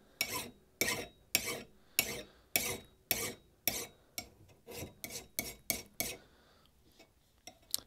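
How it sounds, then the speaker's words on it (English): A hewing axe blade being worked with a hand file: about fourteen steady, rasping strokes in an even rhythm, close and clear, with short pauses between strokes and the last few coming faster and lighter. "go carefully with the file"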